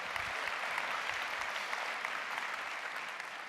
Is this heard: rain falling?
no